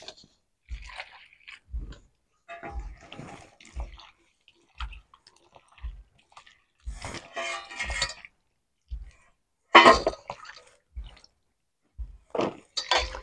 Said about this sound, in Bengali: এবার আমি আমটাকে আরো একবার ধুয়ে নেবো জল দিয়ে